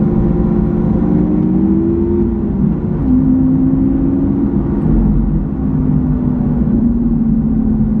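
A Lamborghini Aventador with a single-clutch gearbox gives a loud, steady engine drone heard close from inside the car, its pitch dipping and shifting slightly as gears change.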